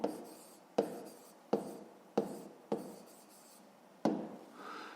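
Pen writing an answer by hand on paper during a fifth-grade maths exercise: six distinct scratchy strokes with short pauses between them, close and quiet, with no voice.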